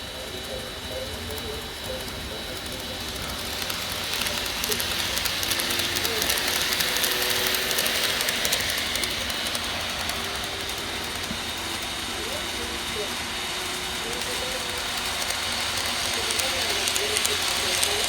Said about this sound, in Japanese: まもなく2番線に電車が参ります。